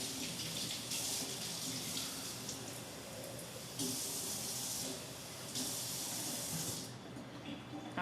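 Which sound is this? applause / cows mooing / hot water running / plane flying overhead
hot water running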